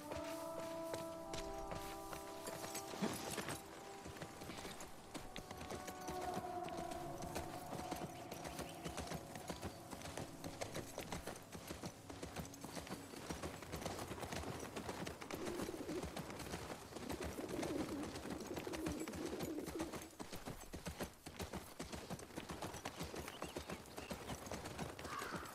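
Horse hooves clip-clop steadily in The Last of Us Part II, a moderately loud, continuous gait that runs throughout with occasional bird-like calls and game ambience around it.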